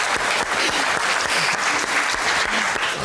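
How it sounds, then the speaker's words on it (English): Audience applause in a room, steady dense clapping from many hands for the whole stretch, fairly close and loud. "Give her a big hand."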